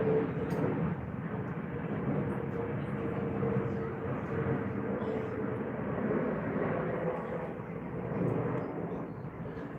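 Airbus A320neo airliner flying over near Heathrow, a broad low jet rumble that holds steady and swells slightly as it passes, moderately distant.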